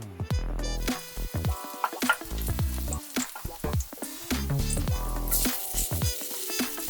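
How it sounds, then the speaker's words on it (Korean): Garlic frying in olive oil in a pan for a rose risotto, a steady close sizzle with crackles and stirring scrapes throughout, no voices. "팬에 올리브 오일을 두르고 마늘을 넣어 올리브 오일에 마늘의 향을 입혀줍니다."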